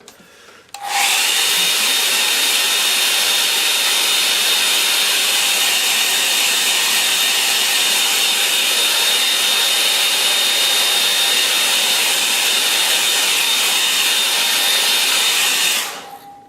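A hair dryer blows steadily to dry a freshly worked painting, a loud, close, continuous whoosh with a faint high whine that runs unbroken for about fifteen seconds before cutting off.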